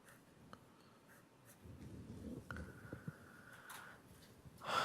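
Marker or chalk scratching on a lecture board while a slope is drawn, faint intermittent rubbing strokes with a few squeaks, quiet and close.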